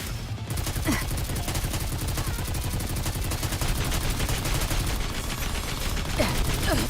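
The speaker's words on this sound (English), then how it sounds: "I just have to shoot?" Rapid automatic gunfire rattles continuously in the video game Goddess of Victory: Nikke, a dense, loud barrage of machine-gun bursts with a few sharp higher shots layered on top.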